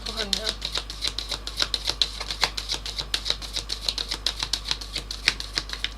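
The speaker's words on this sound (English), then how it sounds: "Let me do another one. A shuffle." Tarot cards shuffled by hand during a live reading, a steady run of quick, crisp riffling snaps repeating at an even rhythm, close and fairly loud, with faint voice at the start.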